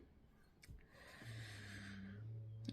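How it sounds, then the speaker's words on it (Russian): A pet snores like an old man during an early-morning indoor recording, giving soft, breathy snorts and a low, steady rumbling drone that is close but quiet, with no talking. "Это у нас Зена храпит, как дед старый."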